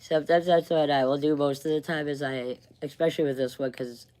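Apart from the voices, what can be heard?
No distinct noise like a dog, phone or traffic.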